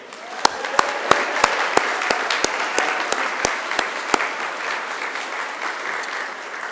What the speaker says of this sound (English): give yourselves a resounding round of applause because you deserve it